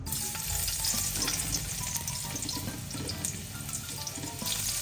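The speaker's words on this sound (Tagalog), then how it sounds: "So igigisa na po natin yung sibuyas at bawang." Onion and garlic sauté in a hot pan with a steady, close sizzle and crackle throughout, and a spatula stirs now and then. No one speaks.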